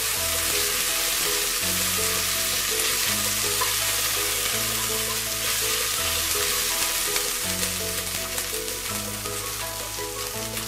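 Ginger paste sizzles loudly and steadily in a hot pan while soya pulao is cooked, with background music playing under the frying and no talking.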